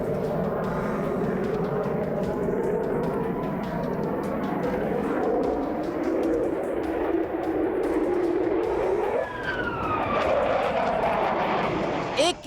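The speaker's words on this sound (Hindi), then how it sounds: "स्टील्थ सिंगल इंजन 5वीं पीढ़ी का दमदार दावेदार दुनिया देखती रह गई" Su-75 Checkmate single-engine stealth fighter jet making a loud sustained roar with rising and falling engine tones, a pass building toward the end, under a voice speaking throughout.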